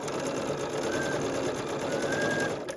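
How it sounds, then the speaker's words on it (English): A sewing machine runs steadily, stitching quilt pieces for a small whale block, a continuous close whirring hum with a faint high whine throughout. "Stitching all the way."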